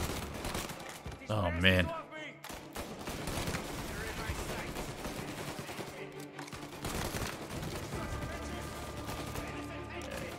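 Shotgun gunfire in Mafia: Definitive Edition, a run of sharp shots and bursts over a busy game soundscape, with someone briefly talking over it.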